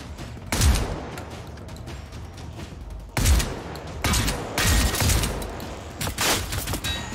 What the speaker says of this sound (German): Oh ja, die schießen sich gegenseitig kaputt